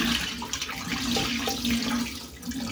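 Water from boiled greens pours through a sieve in a home kitchen, a steady, splashing rush of liquid that runs continuously at moderate volume with no talking.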